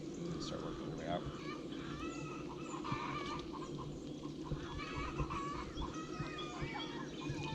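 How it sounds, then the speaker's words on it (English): Laying hens cluck and chatter steadily near a beehive, a busy layered flock sound with people talking underneath throughout. "chickens are all laying eggs."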